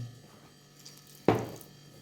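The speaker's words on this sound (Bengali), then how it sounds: "দেখো একটু সামান্য জল দিলাম আমি।" A little water poured into a sabudana mixture with crushed ingredients and chopped onion, a single brief splash after a quiet stretch of low hum.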